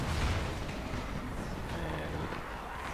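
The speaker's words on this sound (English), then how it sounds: "That goes firecrackers." Firecrackers go off in the zombie game Dying Light, a dense rumbling burst of booms and crackles that starts loud, then settles into a lingering rough noise.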